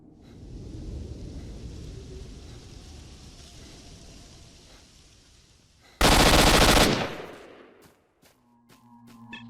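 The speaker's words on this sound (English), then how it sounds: "You guys love trying to shoot you through walls, huh?" Enemy gunfire in the shooter game S.T.A.L.K.E.R. Shadow of Chernobyl, a dense burst of automatic fire followed by a few sharp single shots, over a low rumbling ambience.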